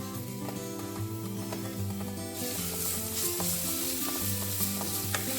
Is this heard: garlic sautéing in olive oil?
yes